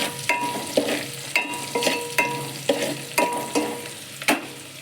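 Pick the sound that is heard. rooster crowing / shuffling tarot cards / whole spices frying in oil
whole spices frying in oil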